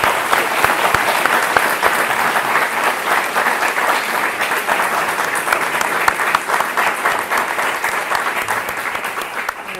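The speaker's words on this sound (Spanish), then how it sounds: "un fuerte aplauso a semejante educadora que tenemos hoy aquí en el foro" Loud, sustained applause from an audience at a memory, truth and justice forum, welcoming an educator to speak; the clapping stays dense and even for about ten seconds with no voices over it.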